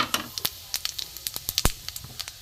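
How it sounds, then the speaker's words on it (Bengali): Panch phoron seeds hit hot mustard oil in a pan, giving a close, loud sizzle full of sharp, irregular crackles and pops scattered over a low frying hiss. "সর্ষের তেল দিয়েছি, গরম হয়ে গেছে, 5 ফোড়ন দিয়ে দিলাম।"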